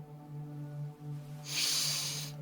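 One deep, breathy breath during a guided meditation, a soft airy rush heard near and alone over a low, sustained musical drone in the background.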